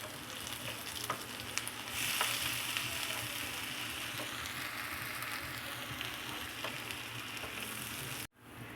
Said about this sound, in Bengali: দিয়ে আমি সুন্দর করে নেড়ে দিব।